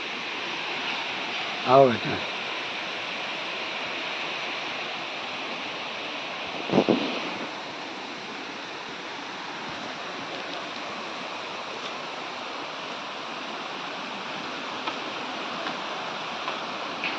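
Stream water flowing in a deep valley, a steady soft broadband rush throughout, with two brief louder thumps or voice-like bursts.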